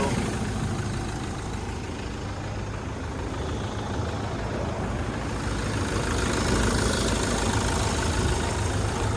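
A 2016 Mitsubishi Fuso FE130 box truck engine idles with a steady, even diesel rumble close by, with no talking.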